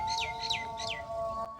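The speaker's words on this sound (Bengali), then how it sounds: "মিষ্টি পাখির ডাক" Birds chirping in open Bangladeshi village farmland, three clear repeated chirps over a steady hum and faint background noise.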